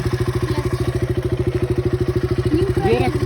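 A motorcycle ridden by a learner chugs with a steady, close, rhythmic engine thump throughout, and a voice briefly speaks over it near the end.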